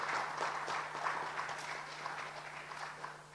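Faint, scattered clapping from an audience welcoming a panel member onto the stage at a World PR Day celebration, with individual claps audible as a loose patter and a steady low hum underneath.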